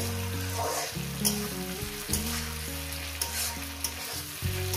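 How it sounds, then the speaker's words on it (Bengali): Green chillies fry in a pan for a poppy seed dish, a steady close sizzle under a low hum, with a few soft scrapes of stirring. "লঙ্কাটাকে দিয়ে আরও 1 মিনিট ভেজে নেব।"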